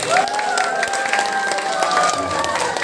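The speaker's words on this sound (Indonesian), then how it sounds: "kasih tepuk tangan buat anak-anak sekalian" Applause from a crowd at an evening certificate ceremony for a women's Islamic study group, clapping for the children, steady and fairly loud over about three seconds, with tonal whistles or feedback and some background voices mixed in.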